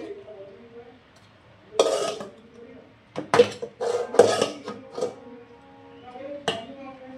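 Rice being served onto a bronze plate at home, with a handful of sharp metallic clinks and scrapes spaced irregularly against a quiet background, along with soft sounds of movement.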